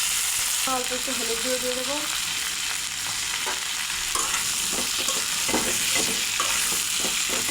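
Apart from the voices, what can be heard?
frying cut pointed gourd (potol) in oil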